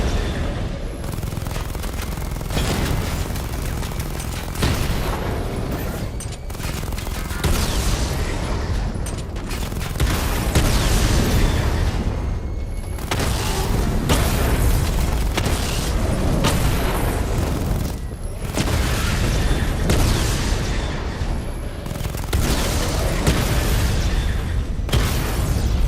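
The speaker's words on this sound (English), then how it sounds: "Destroy targets to charge up weapon energy and activate missile barrage" Missile barrage explosions from Batman Arkham City rattle continuously: dense, loud booms and bursts of gunfire-like pops packed together for the whole stretch, with brief dips between volleys.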